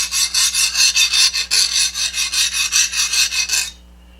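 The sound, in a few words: metal file skating over hardened leaf spring steel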